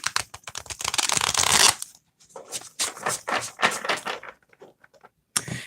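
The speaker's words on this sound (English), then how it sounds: "I'm going to do one last shuffle here." Tarot cards, a mermaid tarot deck, are riffled and shuffled in quick crisp bursts, a long ripple followed by several shorter shuffles close by.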